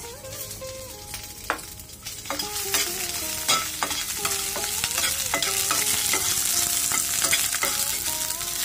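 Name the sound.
frying chopped ginger and green chillies in oil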